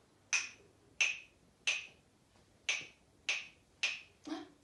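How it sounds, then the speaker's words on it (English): Claves struck seven times at a steady, even pace, each hit a sharp, bright wooden click that rings briefly and close up, with nothing else around them. "It is the claves."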